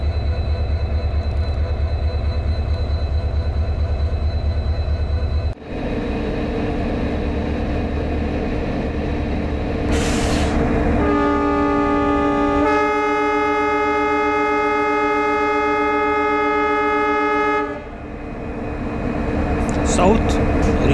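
A WDP-4D diesel locomotive in classic orange livery hauls a passenger train, its engine droning and wheels rumbling, then sounds a long, loud two-tone horn blast for several seconds before the rolling noise continues.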